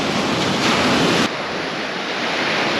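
Ocean surf washing onto the beach at Playa El Tembo on the Oaxaca coast, a steady close roar of breaking waves that eases slightly partway through, with no voices.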